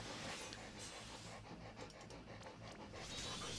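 An old 15-year-old dog pants steadily and rapidly close by, with quick breathy puffs running continuously and no voices.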